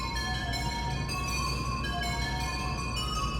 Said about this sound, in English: And then I added these bells from Umbra.